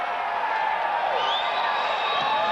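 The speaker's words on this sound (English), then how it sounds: "As the crowd in Augusta making some noise" An arena crowd at a mixed martial arts event in Augusta cheers and whoops in a sustained roar, with a steady wash of voices and occasional high shouts throughout.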